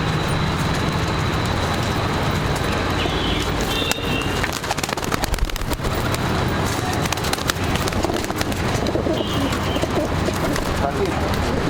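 Teddy pigeons coo within a dense, noisy backdrop of birds in a pigeon coop, while someone talks over the steady din.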